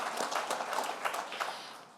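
Scattered clapping from an in-person audience at a city's annual state-of-the-city address, a brief burst of claps that thins out and fades over about two seconds.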